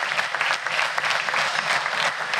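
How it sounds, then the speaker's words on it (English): Gym staff at a fitness club opening applaud the members, a loud, dense and continuous burst of many hands clapping with faint crowd murmur underneath. "So the staff needs to applaud the members."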